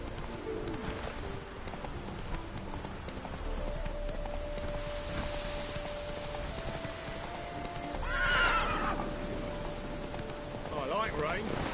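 Roach the horse in The Witcher 3 gallops with steady clip-clop hoofbeats and lets out a sharp whinny near the end, set against a constant outdoor ambience with faint birds.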